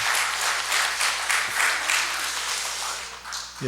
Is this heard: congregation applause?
yes